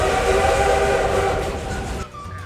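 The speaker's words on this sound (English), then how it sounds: "And of course, they have that cool whistle." A narrow-gauge steam train whistle on the Durango and Silverton railroad blows loud and steady alongside rumbling rail noise, then cuts off abruptly near the end, leaving a faint trailing tone.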